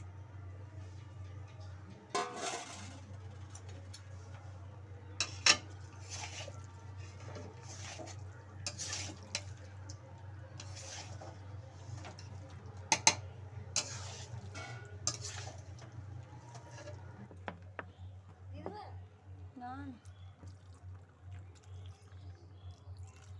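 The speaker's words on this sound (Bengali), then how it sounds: "আলুগুলো দেওয়ার পর আর একটু নাড়াচাড়া করে নিতে হবে।" Potatoes stirred in a cooking pan for a chicken curry, a spoon scraping and clinking against the metal in scattered strokes over a steady low hum, with occasional soft sizzling and no talk.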